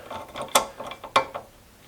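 A big crescent wrench works the top nut on a 1999 Harley FXST shock clamped in a vise, giving a few sharp metallic clicks and ratcheting knocks up close, with no talking.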